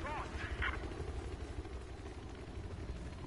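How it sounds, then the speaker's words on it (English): A helicopter in Battlefield 4 Conquest multiplayer gives off a faint, low rotor and engine drone that runs continuously beneath game noise, with a brief voice near the start. "We got nothing for that chopper."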